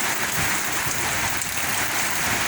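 Steady rain falls in a dense, even hiss on surfaces during the washing of a Toyota Vigo Champ 4x4 pickup, loud and close throughout with no talk.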